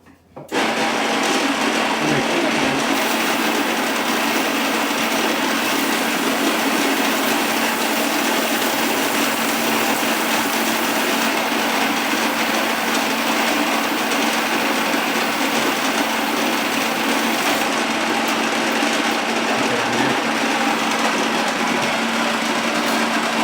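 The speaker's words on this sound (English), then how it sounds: "so we're in the noisy grinding part" A grain mill grinds wheat into flour for sourdough starter, a loud, steady, high-pitched whine that runs continuously without pause and with no talking over it.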